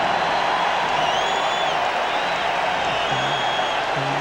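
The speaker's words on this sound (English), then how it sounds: "And this foreign crowd is rocking." Crowd at an NBA Lakers–Bulls basketball game in an arena roaring after a three-pointer, a dense, sustained wash of cheering with occasional whistles, steady and loud throughout.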